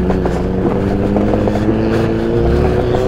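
A small scooter engine drones steadily at close range while riding off-road over slippery ground, its tone wavering slightly with wind noise.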